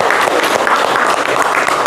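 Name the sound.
applause for a classmate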